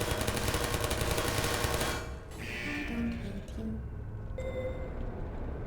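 Turrets firing in the video game Portal, a loud rapid rattle of automatic fire for the first two seconds, then cutting off into quieter game tones and hum, with a voice speaking.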